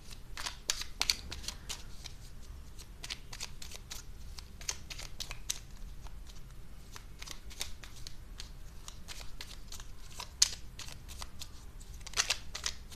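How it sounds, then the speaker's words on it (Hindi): A small tarot card deck being shuffled, with a steady run of soft, close riffling and snapping card sounds that continues throughout without speech. "I'm going to use my small cute tarot deck."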